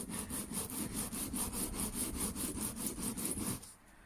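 Knife blade sharpened on an old oilstone, a steady rhythmic back-and-forth scraping of steel on stone, close and continuous, about fourteen even strokes before it stops.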